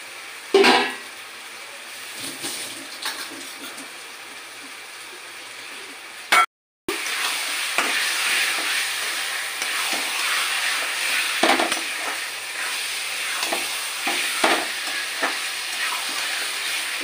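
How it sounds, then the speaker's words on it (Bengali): Marinated chicken for chicken korma hits hot oil in a pan with a sharp burst, then settles into a steady crackling sizzle, with occasional clatters of stirring and a brief cut partway. "এবার যে চিকেনটা আমি ম্যারিনেশন করেছি সেটা আমি দিয়ে দেবো।"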